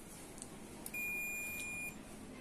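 A multimeter set to continuity test on a microwave oven fuse gives one steady, fairly quiet high beep lasting about a second in a quiet room.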